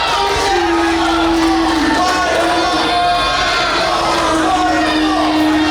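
A pro wrestling crowd in Kansas City roars and shouts throughout a Central States Wrestling match, a loud, dense wall of cheering and yelling with sustained tonal bellows rising above the noise.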